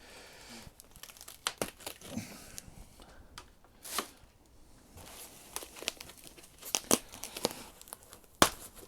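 New fairings for a Kawasaki ZX6-R motorcycle being unwrapped, with close crinkling and tearing of packaging in irregular rustling bursts and sharp crackles, no talking.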